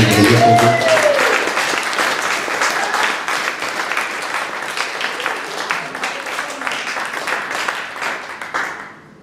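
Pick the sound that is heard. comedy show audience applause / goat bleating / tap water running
comedy show audience applause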